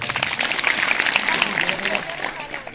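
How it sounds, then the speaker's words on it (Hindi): A group of people clap their hands in a quick irregular patter at an anti-drug awareness skit, with voices talking over the clapping. "तालियां बजाओ।"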